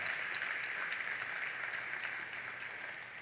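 Steady applause from an audience, a continuous wash of clapping that holds for a few seconds and fades slightly at the end.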